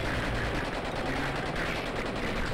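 Gunfire rattles without pause in the video game Blood and Bacon, a loud, dense stream of rapid shots that fills the whole moment.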